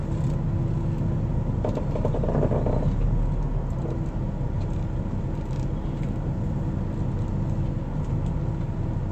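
A semi truck rolls onto a weigh scale, a steady low engine rumble and drivetrain drone up close, with faint rattles and clunks over the continuous hum.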